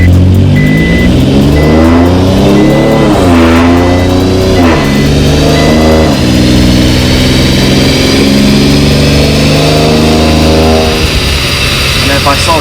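An Infiniti Q50 in sport mode accelerates hard, its engine note climbing through several gear shifts in rising sweeps before settling into a steady high drone, loud and close from inside the car.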